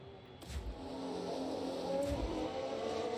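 Formula 1 cars run on track in the F1 Manager 2022 management game. Engines drone faintly and steadily in the background, and two soft low thumps pass by, with no voices.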